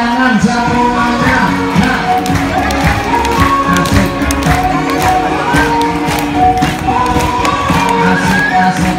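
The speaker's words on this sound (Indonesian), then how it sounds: "Tepuk tangan semuanya." Loud, continuous applause from a dolphin circus audience in Palembang, dense clapping mixed with crowd cheering and shouts, with a tonal background running underneath for the whole stretch.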